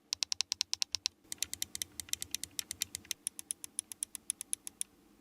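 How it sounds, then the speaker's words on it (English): Clicky triggers, ABXY buttons and D-pad of a Flydigi Vader 5S Xbox controller pressed in rapid series, dozens of crisp, sharp, close clicks in quick bursts and steadier runs, fairly quiet and with no talk. "The clickiness is reserved for the adjustable clicky triggers, the ABXY buttons, and the D-pad."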